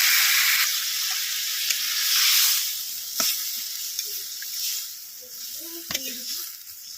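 A pot of bhakur fish curry, made without potatoes, boils and sizzles hard in a steady bubbling hiss with scattered pops and a few soft clinks, close and fairly loud.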